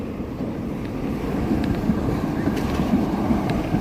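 A vintage streetcar rolls past on a San Francisco street, a loud, close rumble of wheels and rails with faint rhythmic clacking, no voices over it.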